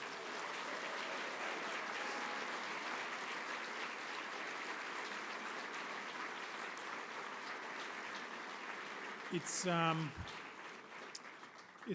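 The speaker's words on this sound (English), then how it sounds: "Let's give them one more round of applause." Sustained audience applause after a school training band's concert performance, steady dense clapping filling the hall throughout, with a brief voice near the end.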